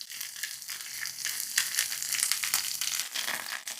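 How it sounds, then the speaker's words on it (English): Garlic sizzling and browning in butter in a pan used for sautéed mushrooms, a soft close crackle with bursts of spitting and light crunchy stirring, no talking. "2 heaping teaspoons of butter and all the garlic. Let it get nicely browned."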